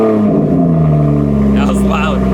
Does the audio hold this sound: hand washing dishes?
no